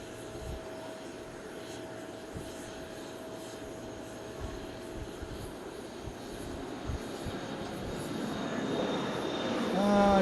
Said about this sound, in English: I'm too concentrated on the Japan Airlines pushing back here